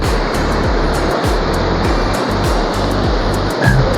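Fast, high-volume water rushing through a deep lake outlet in Multan, a steady loud roar of churning flow close by, with no voices over it.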